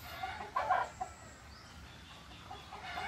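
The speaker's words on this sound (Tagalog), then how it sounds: "pangit na manok" A breeding-season chicken gives a short burst of soft clucks early on, then a few fainter clucks later, fairly close against a quiet farmyard background.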